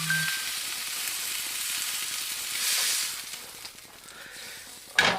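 Pork loin sears in a hot pan, a steady broadband sizzle that holds for several seconds and swells a little midway, ending with a quick clatter, with no talking.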